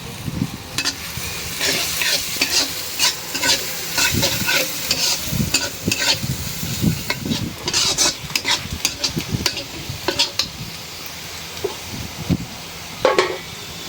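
Onions frying in hot oil for a shrimp curry while being stirred, a steady loud sizzle broken by repeated scraping strokes of a spoon against the pan, with no talk.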